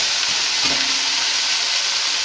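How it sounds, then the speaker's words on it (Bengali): Seven kinds of leafy greens hit hot oil already tempered with chilli, giving a loud, steady frying sizzle with a brief stir partway through, and no talking. "এবারে 7 রকমের শাক দেওয়া হচ্ছে।"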